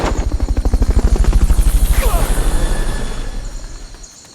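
A helicopter in Metal Gear Solid Peace Walker thumps loudly and close with a fast, steady rotor chop, then fades into a softer whooshing roar as it moves away.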